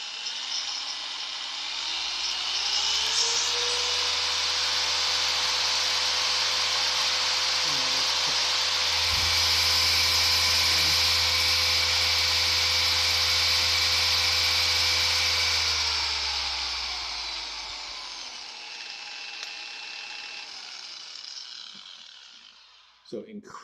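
A cheap cordless car polisher runs at its lowest setting, a steady loud whine and hum holding for about fifteen seconds before winding down and fading out.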